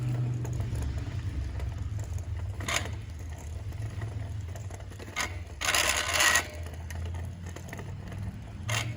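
A measuring wheel rolls along the ground as someone walks it out over a hose at a softwash job, its steady mechanical ticking and ratcheting running under a constant low hum, with a few sharper clicks and scuffs.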